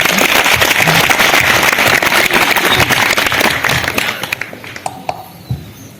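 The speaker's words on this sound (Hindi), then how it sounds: "ये सभी भाई जो बैठे हैं दुर्ग वाले, सबके लिए आप एक बार ताली बजाइए" Loud, dense applause from a seated audience at the Madhuban Holi picnic 2025 gathering, steady clapping for several seconds before thinning into a few scattered claps and fading out.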